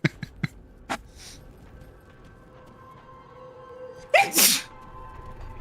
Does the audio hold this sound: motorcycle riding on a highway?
no